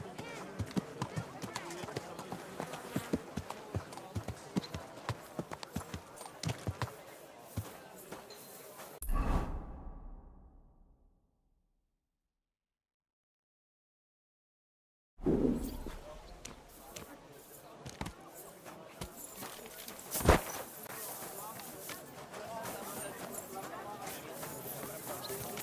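Horse hooves pound rhythmically while riding in Kingdom Come: Deliverance II, a fast steady clip-clop broken by a long silent gap, then resuming with scattered thumps; voices talk over parts of it.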